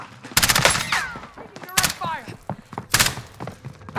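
Gunfire in Call of Duty Warzone on Rebirth Island, with MP7 and sniper fire in bursts of sharp, loud shots in three main volleys, mixed with talk and game sounds.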